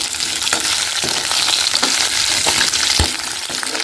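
Chunks of taro and pumpkin fry in hot oil for a hilsa fish tok, a steady close sizzle broken by periodic stirring scrapes and clacks, with no voices.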